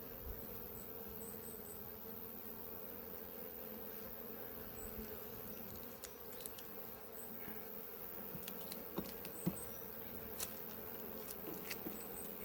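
Honeybees drone in an open apiary hive full of queens, a steady, low, close hum throughout, with scattered soft clicks and taps from handling the frames.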